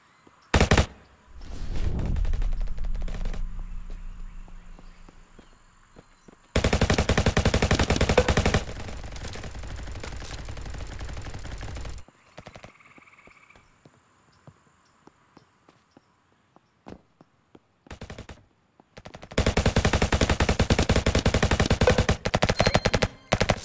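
Bursts of SMG fire in a Roblox first-person shooter, loud and close, coming in several long sustained volleys separated by quieter stretches of game sound.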